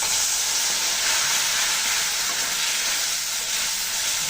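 Chili powder and turmeric with a splash of water frying in a pan as the masala for a pangas fish curry, giving a loud, steady, close sizzle and hiss throughout, with no talking.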